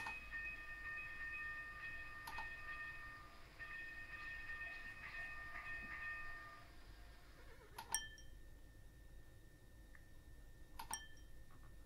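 Rail noise from a train pulling out in the Simutrans pak192 comic game, a soft rolling rumble with faint tonal squeals early on and a few sharp clinks near the end, quiet overall.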